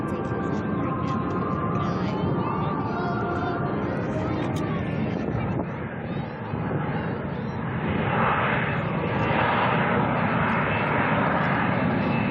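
An aircraft flying a demonstration at a Marine Corps air show: a loud, continuous engine roar that swells and fades slightly, with an announcer's voice talking over it throughout.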